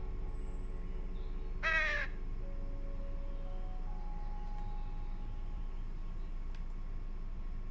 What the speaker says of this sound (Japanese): カラスさんたちまだいるね。